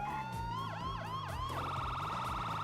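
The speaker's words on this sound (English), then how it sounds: "How do I shut my sirens off?" Police car siren in the RedlineRP video game, a loud steady wail sweeping up and down before switching to a faster yelp pattern, continuous and close with an engine hum beneath.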